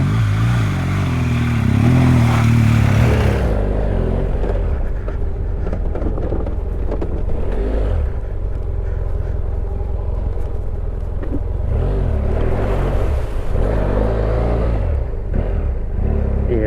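A big BMW GS motorcycle rides through offroad ruts on a training course, its engine rumbling loud and close with revving surges, then settling into a steadier, slightly quieter drone with intermittent throttle bursts.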